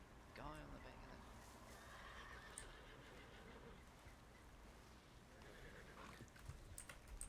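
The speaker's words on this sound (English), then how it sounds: "Look at this wild horse. This is a wild horse." A horse whinnies briefly near the start in the game RedM, heard faintly over a noisy background with low voices talking.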